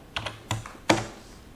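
Three distinct clicks from a computer keyboard, close and crisp, spaced unevenly over a second and followed by quiet, with no voices.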